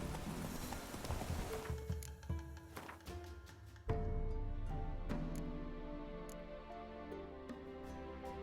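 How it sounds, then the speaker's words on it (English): Roach, a horse in the video game The Witcher 3, gallops in steady clip-clop hoofbeats that continue under layered game music and ambience, with a sharp accent partway through. "Run, Roach"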